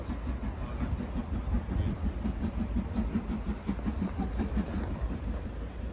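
Black 5 steam locomotive 44871 approaching a level crossing, heard as a steady low rumble with a faint rhythmic pulse of wheels and exhaust, still fairly distant and even in loudness throughout.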